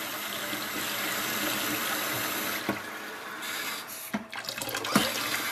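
Water runs steadily from a kitchen faucet into a sink, a continuous broadband rush that holds nearly unbroken, with a few brief clicks and splashes near the end.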